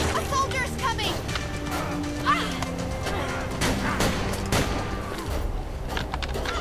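Gunfire in the video game Deadlight, sharp cracks and crashing impacts in a busy, loud game mix while someone talks and shouts over it.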